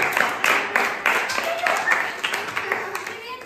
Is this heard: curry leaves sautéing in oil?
no